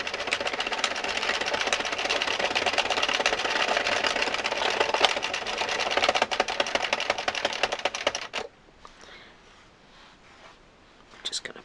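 Addi circular knitting machine cranked by hand through three rows, a steady dense mechanical whirring and clicking of needles close by, running continuously then stopping abruptly, followed by faint quiet handling.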